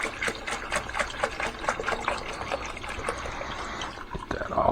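Concentrated liquid cleaner, mixed about 5 to 1, pouring from a gallon jug into a tank of roughly four gallons: a steady splashing, gurgling stream throughout, close and moderately loud, with no talk.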